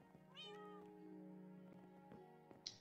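A cat in the video game Minecraft gives one long, drawn-out meow that bends in pitch and holds steady, fairly soft and alone, ending with a small click.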